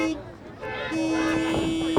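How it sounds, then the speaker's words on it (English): Car horns honk at a drive-in wrestling show, one sustained steady toot sounding alone, then rejoining with other horns over crowd noise and a commentator's voice. "We need to hear those horns honking."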